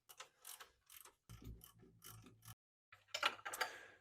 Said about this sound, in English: Get the ratchet on here, tighten these down a little bit